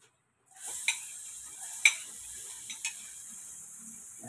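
Garlic sizzles in a hot pan with a steady crackling hiss, punctuated by a few sharp metallic clinks of a utensil against the pan, close and moderately loud with no talking.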